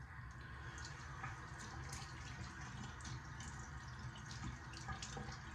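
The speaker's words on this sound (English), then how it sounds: "I keep rinsing because I think there's still soap on there." Tap water runs steadily into a sink while someone rinses their face, a soft continuous splashing with small irregular drips and spatters, fairly quiet and close, with no talking.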